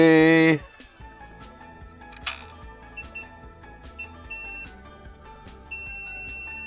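An electronic tone, then small clicks and taps with faint brief beeps, ending in a steady high-pitched multimeter continuity beep that holds, while repairing a PC Engine GT.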